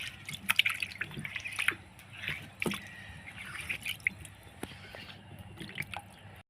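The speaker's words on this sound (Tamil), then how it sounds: "இந்த அம்மியை கழுவி இந்த தண்ணியை எடுத்துகிட்டு போயிடலாம்" Water drips and trickles off a stone grinding slab after washing, a close series of irregular splashy drops with brief wet squishes and pauses between them.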